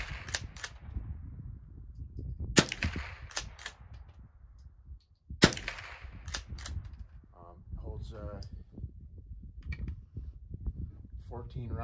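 A Remington 572 Fieldmaster featherweight pump rifle with a tube magazine fires at cans set 15 to 25 yards away outdoors. Several sharp cracks ring out, spaced a few seconds apart, between stretches of someone talking.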